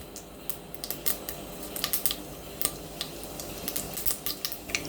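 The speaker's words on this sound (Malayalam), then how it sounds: "കടുക് പൊട്ടി വരുന്നുണ്ട്, നമുക്ക് ജീരകം കൂടി ചേർക്കാം" Mustard seeds pop in hot oil while cooking a hotel-style onion tomato sambar, faint scattered crisp ticks and crackles at an irregular rhythm over a quiet background.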